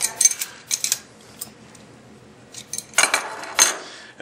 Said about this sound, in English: take our wrench and tighten that back up